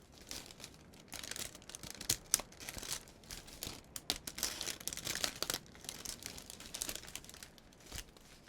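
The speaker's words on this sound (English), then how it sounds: "it's a Subway wrapper." Crinkling of a Subway sandwich paper wrapper, close and detailed, with irregular crisp crackles and small tearing-like bursts, alone with no talking.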